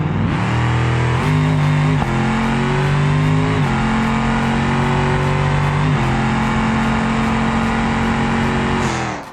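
A 5.5-liter twin-turbo V8 in the Ibishu BX drag car on nitrous roars loud and close in BeamNG, holding a steady high drone with several sharp shifts as it blasts down the strip, then cutting off at the end.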